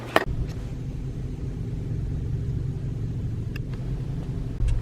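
Steady low rumble of a car rolling along a road, heard from inside the cabin, with a couple of brief clicks near the start and end and no talking.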